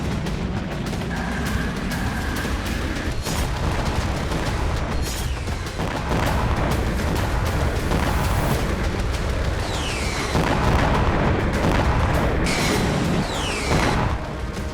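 Heavy bombing explosions from Israeli strikes in Lebanon, with dense, continuous rumbling booms and blasts filling the scene throughout and a few sharp whistling sweeps over the top.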